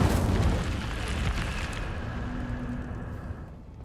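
A fiery spell cast in Hogwarts Legacy erupts with a loud burst followed by a roaring, crackling whoosh that fades gradually over a few seconds, with no speech.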